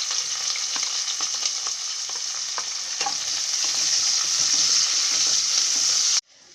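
Onions fry in hot oil with cinnamon, cloves and bay leaf for nonbu kanji, a loud, steady close sizzle with light stirring scrapes throughout, ending abruptly.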